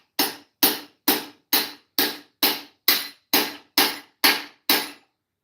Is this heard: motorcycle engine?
no